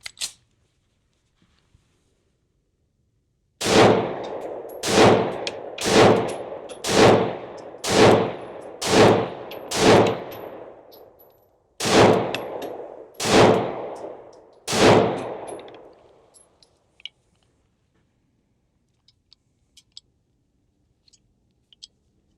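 A Sig Sauer P365XL pistol firing a magazine of moly-coated bullets: ten loud, sharp shots in a steady cadence, a short pause after the seventh, each crack trailing into a brief ringing echo, then quiet.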